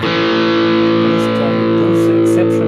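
An instrument plays through the Bass Grinder distortion effect on a Hotone Ampero 2 Stage. A loud, thick, sustained distorted tone holds steady, with a few brief fizzy bursts toward the end.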